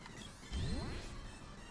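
Pure Water healing spell cast by the water spirit Undine in Secret of Mana, a shimmering magical chime with rising and falling sweeping tones and a soft whoosh swelling in after a brief lead-in, heard alone.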